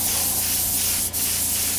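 Paint hisses steadily out of a spray can during a Honda NS250 two-stroke motorcycle restoration, one continuous close spray with a brief break near the middle.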